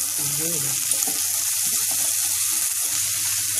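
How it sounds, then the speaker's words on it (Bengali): Chickpeas fry in a pan with a little salt, a continuous bright sizzle running steadily throughout with faint stirring scrapes underneath and a brief murmur of a voice near the start. "নেড়ে ফেলে ভেজে নিতে হবে"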